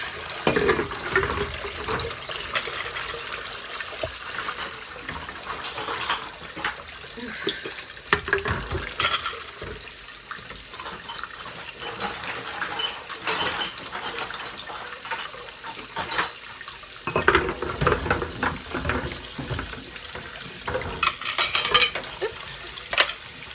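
Glass jars with labels soak in a sink under a running tap, water splashing and gurgling steadily with occasional clinks and sloshes close by.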